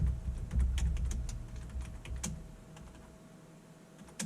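Irregular clicking of keys on a computer keyboard, close and fairly quiet, with a low hum underneath.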